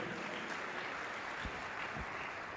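A crowd at a church service claps together in praise, a dense, steady patter of applause heard at moderate distance, lasting a few seconds with no voices on top.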